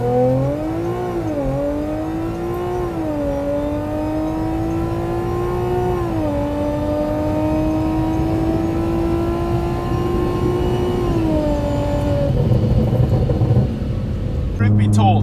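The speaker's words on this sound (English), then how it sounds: "this is the first quarter mile attempt with the slicks" An AWD Audi S4 on four Hoosier drag radials launches down a drag strip quarter mile, its loud, close engine note climbing steadily in pitch and dipping briefly at each gear shift.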